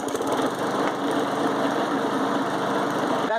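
A pull-start walk-behind lawnmower engine runs steadily with a loud, close, buzzing drone and rapid chugging pulse, continuing without talk.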